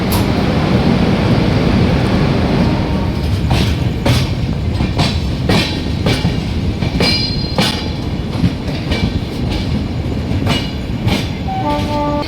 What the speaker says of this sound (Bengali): আমাদের ট্রেন নির্ধারিত সময় সাঁতরাগাছি জংশন ছেড়ে রওনা দিল তার গন্তব্যের উদ্দেশ্যে